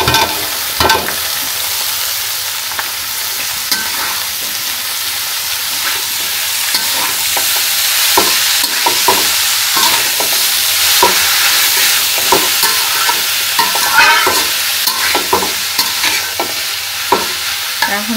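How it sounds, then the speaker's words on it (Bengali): Banana flower and potatoes sizzle together in a pan for a poppy-seed curry, with a constant loud fry under frequent scraping stirs of a spoon against the metal, close and without speech. "পোস্ত পোস্ত বাটা দিয়ে আজকে এই যে মোচা ঘন্ট রান্না করব।"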